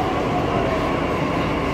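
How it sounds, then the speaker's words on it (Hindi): A Delhi Metro Blue Line train arriving at a station: a steady, loud rumble and rolling rail noise that fills the whole stretch without a break. "ये हमारी मेट्रो ट्रेन पहुँच चुकी है।"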